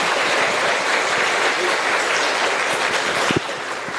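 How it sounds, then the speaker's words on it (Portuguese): A church congregation applauding the archbishop at Mass during the São Sebastião novena in Rio, dense sustained clapping filling the space, easing slightly toward the end. "Uma salva de palmas ao nosso arcebispo"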